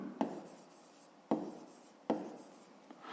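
Three distinct bursts of writing scratch across paper, spaced roughly a second apart, each starting with a sharp stroke and fading, while working a fifth-grade math exercise.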